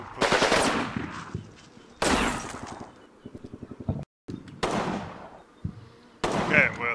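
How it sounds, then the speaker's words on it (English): MP40 submachine gun bursts crackle in the Combat Mission war game, with several rapid volleys of close gunfire broken by short pauses, mixed with other battle noise. "they're firing back with the MP40"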